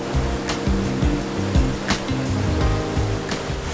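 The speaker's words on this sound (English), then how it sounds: "based on this little exit stream we're seeing, it looks well worth the cost." The Trümmelbach glacier-fed waterfall and its small exit stream in Lauterbrunnen, Switzerland, roar and rush continuously with a dense, loud wash of water and no talk.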